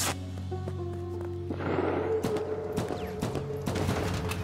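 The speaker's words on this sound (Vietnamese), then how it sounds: "Đúng là bắn vô bình ga thì nó sẽ nổ." Gunfire in the video game From Space, ending with a gas tank exploding: a steady low hum, then a broadband blast followed by scattered sharp shots and crackling, fairly loud throughout.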